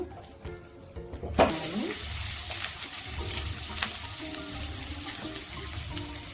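Curry leaves and tempering seeds dropped into hot oil burst into a loud, close sizzle that keeps crackling and hissing steadily after a brief quieter start.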